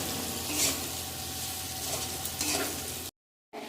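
Onion, green chilli and capsicum fry lightly in a pan, a steady close sizzle with stirring that cuts off abruptly near the end.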